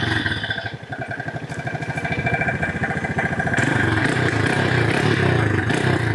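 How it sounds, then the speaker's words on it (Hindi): A motorcycle engine fires up and runs at a bike-versus-e-rickshaw pulling contest, a pulsing mid-pitched putter that grows louder and fuller partway through, with faint clatter in the background. "आप बाइक स्टार्ट कीजिए।"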